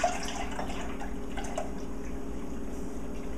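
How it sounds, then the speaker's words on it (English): About a quart of milk pours into a pot for lactose-free yogurt, a steady liquid rush with faint drips that runs evenly throughout. "And then I'm going to pour in about 1 quart of milk"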